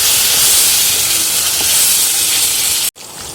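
Coconut and tomato paste for kurma sautéing in a pan gives off a loud, steady hiss and sizzle that cuts off abruptly just before the end.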